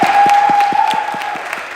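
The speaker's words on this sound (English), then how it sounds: "One last round of applause for all of our great performers tonight." An audience at a college chorale variety show claps for the performers, a short burst of crowd applause with a few distinct nearby claps standing out, steady and moderately loud.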